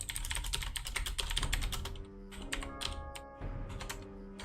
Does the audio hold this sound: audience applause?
no